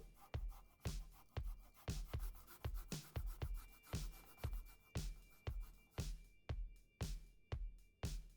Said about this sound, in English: We're going to get some zest out of it and some lemon juice.